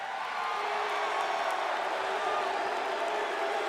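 A large wrestling arena crowd at a WCW Monday Nitro event roars with sustained booing and jeering, a steady broad wash of voices throughout with faint talk blended in.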